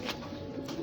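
Rooftop pigeons give soft, muffled coos, two faint throaty pulses close by, against a steady low background hum.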